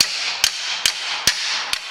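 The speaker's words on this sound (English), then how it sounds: "So very, very gently, you hit it with a hammer." A hammer gives four light, evenly spaced taps, seating a rear differential into place on a Land Rover Freelander; sharp close metallic knocks over a quiet workshop background.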